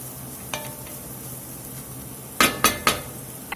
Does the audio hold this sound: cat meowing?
no